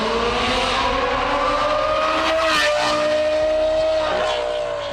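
Loud car exhaust system on an STO-type performance car driven hard, a powerful rising and falling engine roar with sweeping tonal whine, continuous and close.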